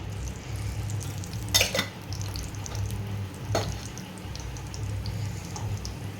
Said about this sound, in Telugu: దీంట్లోనే కొంచెం చిటిపట అంటున్నాయి కదా